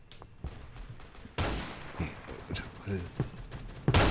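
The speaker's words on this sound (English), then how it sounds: "Your gun is very loud, dude." Loud, close gunshots in Roblox Phantom Forces, several sharp single reports with gaps between them, and a person briefly speaking between the shots.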